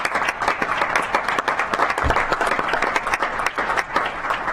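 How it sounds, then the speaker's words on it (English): A council chamber audience gives a sustained round of applause during a city council session, dense steady clapping from many hands that holds at an even, fairly loud level throughout without a break. "Let's give them a round of applause."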